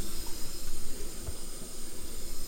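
Water pours from a Dualit classic kettle with a rounded edge in a steady, close hissing stream that runs unbroken for a couple of seconds with no voices.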